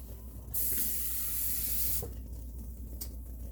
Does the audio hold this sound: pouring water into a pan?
yes